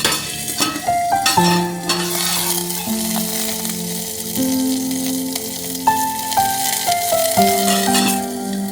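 Fenugreek and green chillies frying in oil while being stirred, a steady sizzle with scraping and clinking of a spoon against the pan, close and continuous, with sustained musical tones playing underneath.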